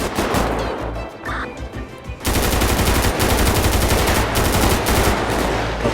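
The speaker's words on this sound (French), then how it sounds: "il vous tire dessus, derrière vous" Gunfire rattles in GTA V with the LSPDFR police mod during a gendarmerie deployment, first in a few bursts and then as a dense, continuous volley of rapid shots that is loud and sustained.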